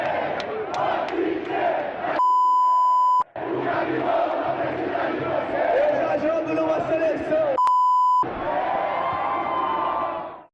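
Flamengo supporters in a stadium chant a song together, a dense, sustained crowd roar that fills the space, broken twice by short steady beeps.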